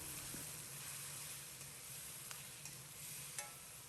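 Soy sauce hits a hot wok with braised pork, giving a faint, steady sizzle with light stirring clicks, close by and without talk.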